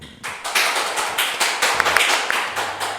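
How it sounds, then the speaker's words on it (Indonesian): Audience applause at an Indonesian campus talk-show event, a dense burst of many hands clapping close and steady for a few seconds without speech. "terima kasih tepuk tangannya kawan-kawan"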